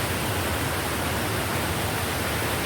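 A swollen river flows close by with a steady, even rushing and gurgling wash that holds constant throughout, with no voices.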